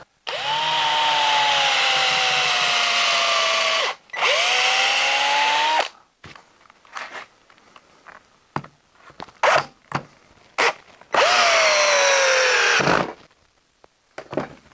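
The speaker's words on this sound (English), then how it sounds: "So I'm going to be using 3-inch screws." A power drill drives 3-inch exterior screws into a log, with two long, loud sustained runs of whining motor, a stretch of short clicks and bursts, then another long run near the end.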